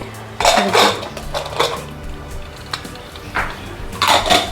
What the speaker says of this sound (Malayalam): കുക്കർ തുറക്കാം കുക്കറിൻ്റെ പ്രഷറൊക്കെ പോയി